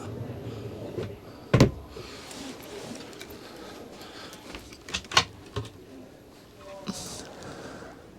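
Pan drawer in a Benimar Mileo motorhome kitchen at a motor show, a close clunk as it moves, then a couple of lighter knocks and rattles against quiet background noise.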